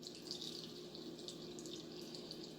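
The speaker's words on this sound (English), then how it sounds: "now put the water in" Water poured into a 6-cup blender for a detox smoothie, a steady close splashing stream heard alone throughout.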